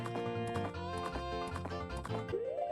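Epona the horse galloping in a Zelda video game, with quick rhythmic hoofbeats under bright, tonal game music.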